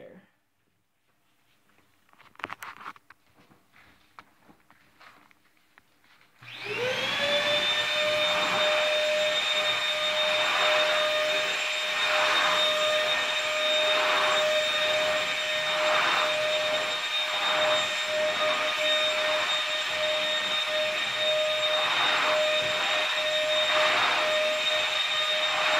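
A Bissell 3-in-1 vacuum cleaner switches on after a few quiet seconds of faint handling, then runs loudly and steadily with a high motor whine while sweeping debris from a floor, its pitch wavering slightly as it is pushed back and forth.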